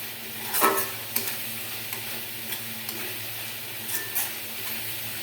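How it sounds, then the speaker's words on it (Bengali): Masala fries in oil as it is stirred, a close sizzle broken by scraping spoon strokes and a few sharp clinks against the pan. "যতগুলো তেল না ছাড়বে মশলাটা আমি কষাইয়ে রাখবো।"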